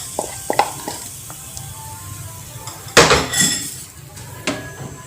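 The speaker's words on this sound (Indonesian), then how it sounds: "Terus aja aduk-aduk hingga semuanya mengental." Egg dimsum batter thickening in a pan, stirred with a utensil that scrapes and clanks against the pan, starting with scattered light taps and building to loud, close scraping bursts, with faint sizzling underneath.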